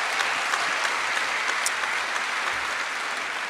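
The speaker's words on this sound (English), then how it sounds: "How about a big round of applause all the way again from Connemara?" An audience claps warmly for a harp performer from Connemara. The applause is a steady, even wash of many hands, alone and with no voices over it.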